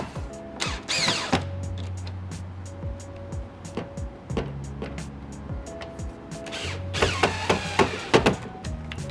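Screws being driven back in to secure an interior LED light panel in a 2009-2016 second-generation Land Rover LR4, heard as close, irregular ratcheting clicks and mechanical taps spread across the clip, with denser bursts near the start and end.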